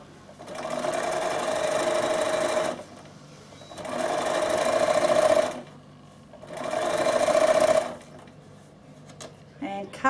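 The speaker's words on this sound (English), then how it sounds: "flip your little tag up and continue to sew" A sewing machine, a Bernina, stitches fabric in three steady runs of several seconds each with short pauses between, a close, even mechanical whir.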